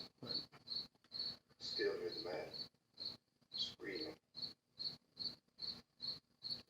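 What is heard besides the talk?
crickets chirping, added in post-production to a film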